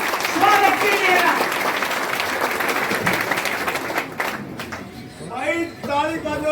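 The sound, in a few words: crowd applause welcoming speaker at rally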